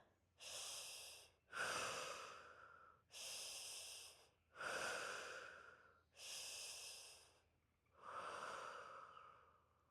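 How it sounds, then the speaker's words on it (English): Slow, deep breaths during a fascia stretching class, six long airy inhales and exhales in a steady rhythm, close and clear with no talking. "reach that right arm up first, just as much as you can. 3 big breaths"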